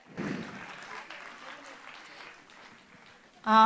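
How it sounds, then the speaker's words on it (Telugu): An audience claps at a music academy's 20th anniversary celebration on Sri Rama Navami. The applause swells and then slowly fades, and a sustained musical tone begins loudly right at the end. "కొంచెం గట్టిగా చప్పట్లు కొట్టాలి"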